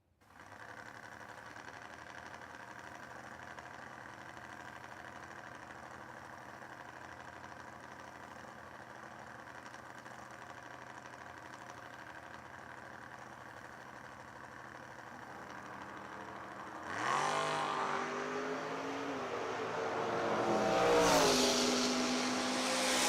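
A Ford Mustang drag car at a footbrake drag racing event idles with a steady low rumble, then suddenly roars and revs hard as it launches, loud and close.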